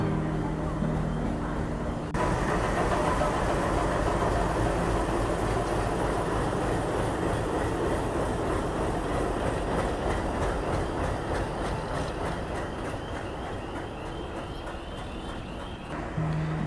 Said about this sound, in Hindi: ये एक टर्मिनल रेलवे स्टेशन है, तो यहाँ पे शंटिंग जो है वो कुछ ऐसे होती है।